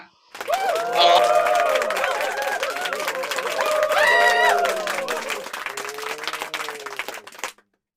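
A television studio audience applauds and cheers over a bald host's pledge, steady dense clapping with shouts and chatter for several seconds before cutting off abruptly.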